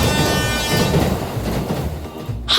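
A train rumbles past loudly in a Roblox minigame, a dense rolling clatter that drops away briefly near the end.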